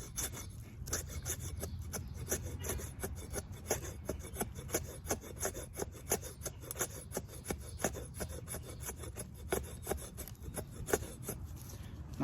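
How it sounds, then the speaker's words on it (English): A SZCO Bowie knife shaves feather sticks from old dried hardwood, making a steady run of close, quiet scraping strokes with no talking. "let's see how it holds up with a little bit of feather sticking here."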